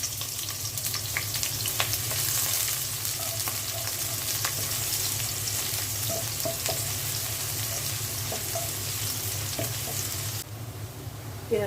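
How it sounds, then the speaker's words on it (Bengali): Chopped onion frying in oil in a cooking pot gives a steady, close sizzle throughout, with occasional light clinks and stirring and no talking. "পেঁয়াজটা হালকা ভেজে নিলাম।"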